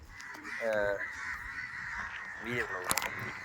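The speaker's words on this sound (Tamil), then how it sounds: "என்ன சொல்லிட்டு இருந்தேனே மறந்து வீட்டில் காக்கா சவுண்டில்." A crow cawing near a house, two or three harsh nasal calls rising over a quiet indoor background, fairly close and clear.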